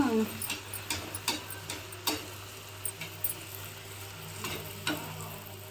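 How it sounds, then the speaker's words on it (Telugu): A puri fries in hot oil, a soft steady sizzle broken by repeated sharp spatters and ticking pops from oil being spooned over it, close but fairly quiet. "నూనె అనేది ఇలా పూరి మీద ఇలా వేస్తూ ఉంటే అది పొంగి వస్తూ ఉంటుంది"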